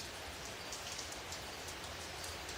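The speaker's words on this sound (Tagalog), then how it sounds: "rinig ko ang malakas na patak ng ulan na tumatama sa bubong" Heavy rain drums steadily on a roof, a dense, continuous patter of drops close by with no voices.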